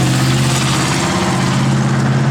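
A 1956 Ford Customline engine runs steadily through an H-pipe Flowmaster dual exhaust, a loud, even low rumble heard close up and alone.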